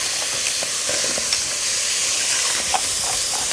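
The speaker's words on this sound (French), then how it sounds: "Donc là maintenant nous allons bien caraméliser." Onions caramelizing with vergeoise brown sugar in a hot pan give a steady, loud sizzle and hiss with faint stirring scrapes throughout, no voices.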